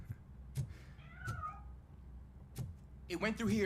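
A cat hidden inside a piano in the video game RoboCop: Rogue City gives a soft, short meow, then a louder, drawn-out meow at the end, over low background noise.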